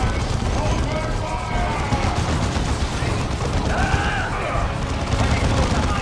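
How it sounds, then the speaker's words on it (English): Missile launchers firing in the strategy game Dawn of War 2, a dense, continuous barrage of crackling blasts and impacts rumbling throughout, with someone talking over the combat. "Yes, very inaccurate, aren't they? Missile launchers."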